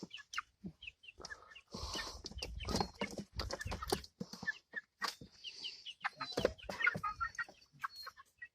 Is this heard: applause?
no